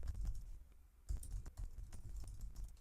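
Typing on a computer keyboard, a steady run of close, soft key clicks with a brief pause near the middle, no voices.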